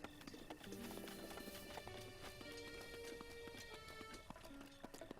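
Horse hooves clip-clop steadily in The Legend of Zelda: Breath of the Wild, a game horse moving at a walk or trot under continuous game music and ambient layers, moderately faint throughout.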